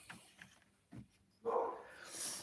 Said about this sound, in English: Oh, this dog's barking